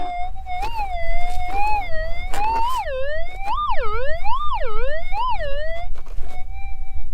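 An Axiom metal detector with a mono-loop coil, scrubbed along the ground over a small gold piece, gives loud warbling tones that rise and fall repeatedly and swell into wide swooping sweeps midway before settling to a steady pitch.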